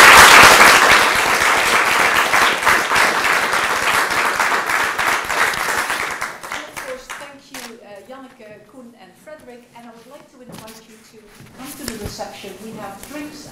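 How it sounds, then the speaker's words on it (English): Audience applause closing a lecture by Nick Couldry on data colonialism, dense and loud for about six seconds before thinning into scattered claps as a voice begins talking over the fading noise. "who I would like to thank once again with a big applause"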